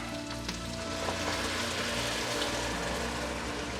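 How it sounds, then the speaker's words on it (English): Ground beef for ragu alla Bolognese frying in a pan, a close, steady sizzle and crackle with light stirring scrapes throughout. "let it fry up in that beef fat well that you made in the middle"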